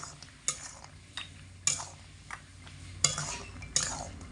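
A metal spatula stirs soybean chunks, potato and spices in a pan over low to medium heat, making repeated sharp scraping clinks at irregular intervals over a faint background sizzle, close and without talk.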